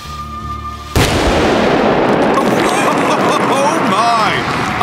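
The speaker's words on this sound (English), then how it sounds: "The acetylene explodes, ripping the tin apart with an ear-shredding bang." Acetylene gas ignites inside a tin and tears it apart with a single sudden, deafening bang, followed by a loud, sustained roar of noise and echo.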